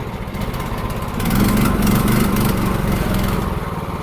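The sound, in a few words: tracked dumper engine running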